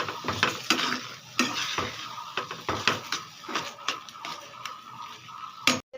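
Carrot halwa being stirred nonstop in a pan, a close run of scraping, dull knocks and soft sizzle with uneven strokes and brief pauses.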